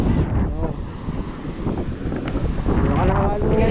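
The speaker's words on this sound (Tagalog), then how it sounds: "Sobrang lakas pa ng hangin." Strong wind roars and buffets the microphone by the sea, with big waves churning beneath it, loud and continuous.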